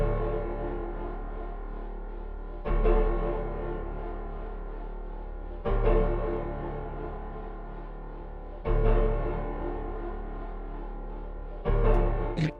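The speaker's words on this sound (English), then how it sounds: "deep piano notes. So it's just playing a C2 and a C3" Deep low piano notes, a C2 and C3 together, programmed in FL Studio for a dark trap beat, struck four times at even intervals about three seconds apart, each sustaining and decaying into the next, with no voice over them.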